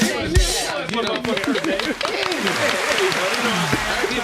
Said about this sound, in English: Clap that shit up, man.